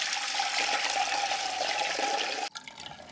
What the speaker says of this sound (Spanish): Voy a estarla colando.